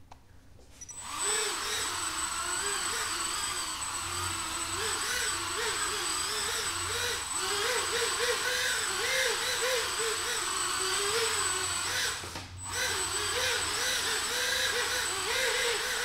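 A Mirarobot GV160 EPP RTF radio-controlled hovercraft runs on the ground indoors in a tight space, its fan motor starting up into a steady high whirring buzz with wavering pitch and a brief dip near the end.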